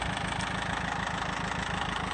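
A Ford 8N farm tractor with a box scraper attached idles at close range, its engine giving a steady, even low-frequency chug that carries through the whole short stretch with no talking.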